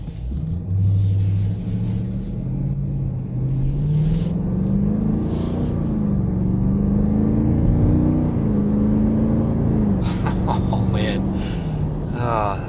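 A 2018 Dodge Durango SRT's engine and exhaust at light throttle: a steady, smooth low rumble that rises and falls gently while driving, with someone talking over it.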